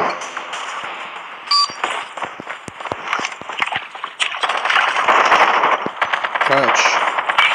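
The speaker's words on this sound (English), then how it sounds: "Shotgun time." Shotgun blasts from Call of Duty Mobile gameplay in a VTOL team deathmatch on the Cage map, sharp repeated bursts with metallic clangs amid dense, loud game action.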